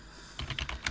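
Quick, close tapping of keys on a computer keyboard as a short command is typed on a Debian system, a rapid run of light clicks after a brief quiet moment.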